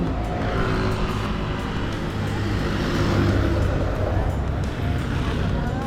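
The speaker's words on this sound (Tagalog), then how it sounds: "Mabibilis yung sasakyan dito, no?" Fast vehicles rush along a road in the Philippines, making a continuous loud roadside roar that swells briefly midway.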